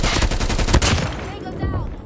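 Rapid automatic gunfire from a deployed sentry gun in a military shooter video game, a loud burst of dense repeated shots that tapers off, with faint in-game voice lines.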